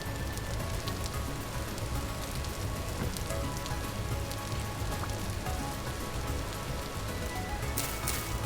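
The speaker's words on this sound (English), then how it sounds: "It's always raining around here." Steady rain falls in the video game Vintage Story, a dense, constant hiss of drops that holds evenly for the whole stretch, with no voices over it.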